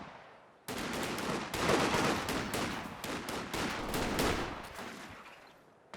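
Machine gun fire in Company of Heroes 2 breaks out suddenly and rattles in sustained, rapid bursts for several seconds, loud and sharp over battlefield noise before fading near the end.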